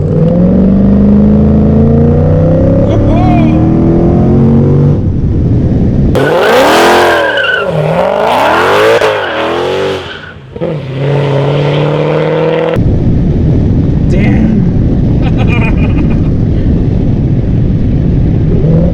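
A supercharged Mercedes CL55 AMG V8 of about 500 horsepower accelerates hard on a road drive, its loud engine climbing and dropping through repeated rising sweeps with tire squeal, heard close and alone without talk.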